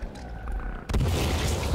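C4 detonating in Sons of the Forest: after a quiet stretch, a sudden booming blast hits and rolls on as a rumbling tail, closing with a sharp pop.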